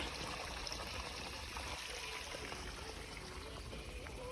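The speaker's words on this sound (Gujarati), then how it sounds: "પાણી આવી રહ્યું છે." Water flowing in a continuous, quiet trickling stream, steady throughout with faint background noise.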